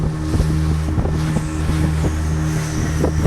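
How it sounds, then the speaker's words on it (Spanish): A motorboat speeds across open water, its engine droning steadily under rushing wind and choppy water slaps, loud and close throughout without any talk. "Aquí estamos en la lancha, Jelly."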